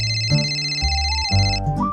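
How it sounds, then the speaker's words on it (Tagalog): Mobile phone ringtone playing a short electronic melody of stepped tones, loud and close, with no voices over it. "Oh, hindi ba telepono mo yan?"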